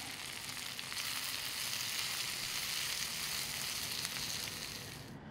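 Smoked prime rib searing on hot cast iron gives a loud, continuous, close sizzle with a dense crackling hiss that holds steady throughout, with no voices.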